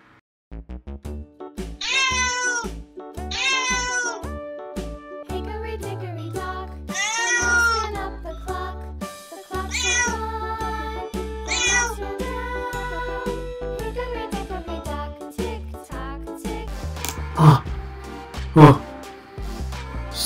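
A person imitates a cat with repeated drawn-out meows. The meows sit over a bright, tinkling tonal backing, with a few sharper clinks near the end.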